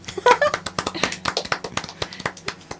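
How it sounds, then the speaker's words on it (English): Scattered hand claps from a few people, quick and uneven, with a steady low hum underneath and a voice briefly at the start. "Let's clap for John."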